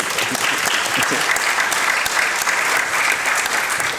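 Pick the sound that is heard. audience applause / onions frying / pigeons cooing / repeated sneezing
audience applause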